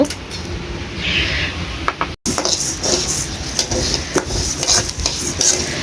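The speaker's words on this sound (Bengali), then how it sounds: "খিচুড়ি রান্না করার জন্য আমি এখানে ডাল ভেজে নিব" Moong dal roasts in a pan for khichuri in a village kitchen, stirred constantly with a busy scraping rattle of grains and utensil against metal, broken by one brief dropout.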